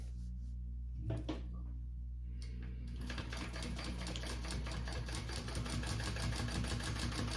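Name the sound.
sewing machine stitching down a handbag pocket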